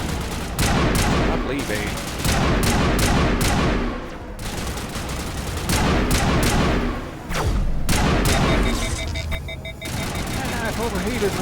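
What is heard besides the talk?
weapon gunfire in Mass Effect video game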